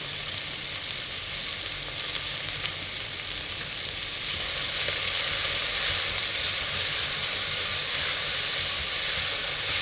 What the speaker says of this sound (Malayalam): അതുകൊണ്ട് എളുപ്പം ഉള്ളി നമുക്ക് വഴന്ന് കിട്ടും